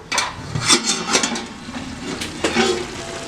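Half-cooked fish biryani rice is stirred in a pot, a spoon scraping and clanking against the metal in several quick strokes, close and fairly loud, with no talking.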